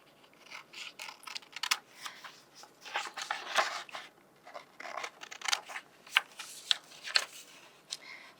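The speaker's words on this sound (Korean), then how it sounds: "활동지 2번에 그린 이 전개도 모양은 가위를 이용해서" Scissors snip through a paper activity worksheet, cutting out a drawn shape net: a close, steady run of crisp, papery snips and rustles at an uneven pace, with no one talking.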